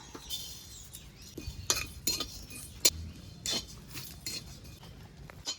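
Cumin seeds dry-roasting in a kathkhola pan, stirred with a utensil: a run of close, sharp metallic scrapes and clinks in uneven bursts over a faint background, with no talking.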